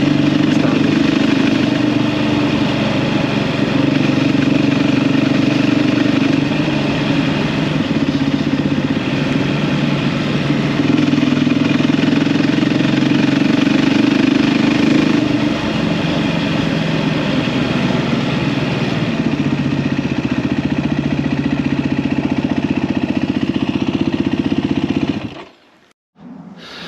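Beta 390 RR enduro motorcycle being ridden, its engine and exhaust a steady loud droning roar with slight rises and falls in revs throughout, close and continuous until it cuts off near the end.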